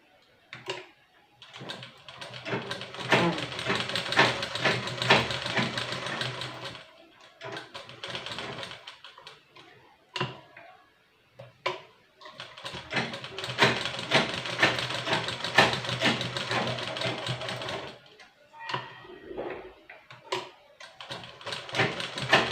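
A sewing machine stitching the edge of a blouse tassel, running in long rapid mechanical bursts separated by short pauses and clicks, close and fairly quiet.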